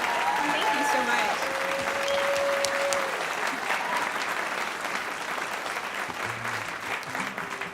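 Audience applause at a live radio show recording, a loud, dense patter of many hands clapping that holds steady for several seconds before slowly thinning out, with a few whistles and brief voices mixed in.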